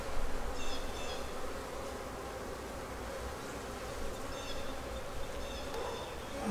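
Honey bees buzz continuously around an open hive during a spring inspection. The hum is dense and close, with individual bees droning in and out nearby.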